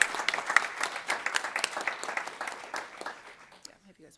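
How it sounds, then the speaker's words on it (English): Audience applause for students at a school board of education meeting, a steady wash of many hands clapping that builds briefly and then tapers off toward the end. "please give them another round of applause"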